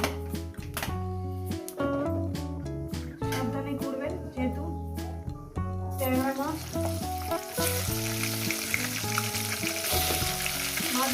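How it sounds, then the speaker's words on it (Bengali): Nigella seeds (kalo jeere) hit hot oil in a pan, bursting into a bright, hissing sizzle that builds over the last few seconds beneath loud melodic background music. "ওই তেলের মধ্যে দিয়ে দেবো আমি কালো জিরে অল্প করে কালো জিরে দিলাম"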